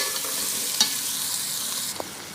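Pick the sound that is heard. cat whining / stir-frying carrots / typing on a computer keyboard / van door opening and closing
stir-frying carrots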